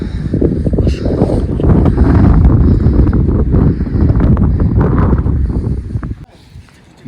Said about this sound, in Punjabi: ਬਹੁਤ ਤੇਜ਼ ਹਵਾ ਚੱਲ ਰਹੀ ਹੈ